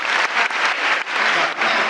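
Theater audience at a silent film festival screening applauds in a steady, dense burst of clapping lasting a couple of seconds, with brief dips in intensity and no voices over it.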